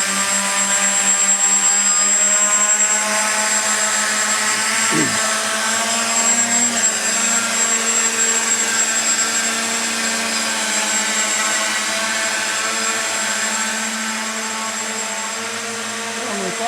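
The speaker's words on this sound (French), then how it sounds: "Les 4 moteurs vont fonctionner." Four electric motors of a helicostat run together with a steady, loud, high-pitched whirring drone and a thin whine above it, holding constant throughout with a brief thump near the middle.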